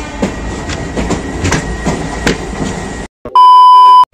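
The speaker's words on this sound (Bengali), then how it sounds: "এই হচ্ছে আমাদের ট্রেন 18410 পুরী শালিমার জগন্নাথ এক্সপ্রেস" The Puri Shalimar Sri Jagannath Express, train 18410, at Cuttack station gives a loud rhythmic clickety-clack of wheels over rail joints for about three seconds, then a brief gap and a steady electronic beep.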